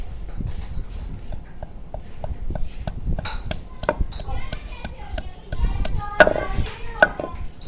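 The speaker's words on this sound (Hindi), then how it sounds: "ਹੁਣ अदरक कुटांगे।" Ginger is pounded for a tawa fish fry, with a series of sharp, close thuds and knocks repeating in an uneven rhythm, mixed with scattered clinks and a little background noise.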